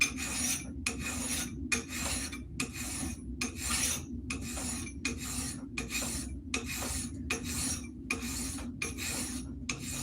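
A metal file rasps against an axe head in a steady series of about a dozen strokes, each harsh scraping pass separated by a brief pause, close and fairly loud, with no talking.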